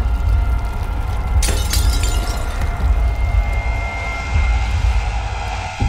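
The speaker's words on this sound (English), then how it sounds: "I hear glass breaking, but I don't see any glass." Glass shatters in The Old Brother video game, a sharp bright crash near the start that rings out briefly over a constant loud low rumble and drone.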